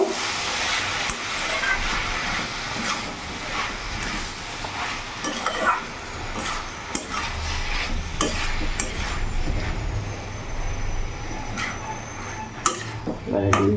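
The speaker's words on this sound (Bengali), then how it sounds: "এবার এই মোচাটা আমি এবার দিয়ে দেবো এবার ভালো করে আমি মশলার সাথে মিশিয়ে নেব" Banana flower being mixed with spices in a pan over a medium gas flame, a steady frying sizzle broken by repeated scraping stirs and occasional clinks, close and fairly loud.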